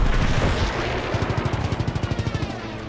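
Gunfire rattles in the Call of Duty: World War 2 Battle of the Bulge winter campaign: loud mixed firing at first, then a steady burst of rapid automatic shots in an even rhythm.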